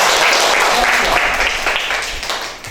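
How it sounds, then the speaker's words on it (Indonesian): A classroom gives Juwita a burst of applause, with many hands clapping loudly and densely nearby. The clapping fades gradually over a few seconds. "Juwita, kita beri aplaus ya"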